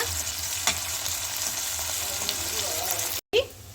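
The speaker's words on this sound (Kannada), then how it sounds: "ಈರುಳ್ಳಿ ಚೆನ್ನಾಗಿ ಫ್ರೈ ಆಗೋವರೆಗೂ ಬಾಡಿಸ್ಕೊಳ್ಳೋಣ" Onions fry with garlic, curry leaves and dry chillies in hot oil, giving a continuous close sizzle with occasional scraping stirs, a brief cut near the end, and then the sizzle picks up again.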